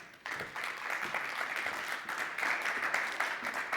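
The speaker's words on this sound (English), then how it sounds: "So let's give him a warm round of applause as he comes up as well." Audience applause at a Standard Bank business and commercial banking dialogue event, a steady moderate wash of clapping from a crowd that continues evenly for several seconds without speech.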